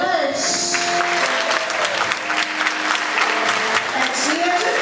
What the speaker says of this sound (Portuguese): Vamos aplaudi-las.